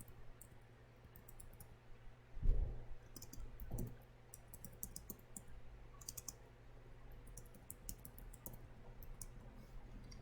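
Faint typing on a computer keyboard: light key clicks come in short irregular bursts over a quiet room hum, with a couple of soft thumps and no speech.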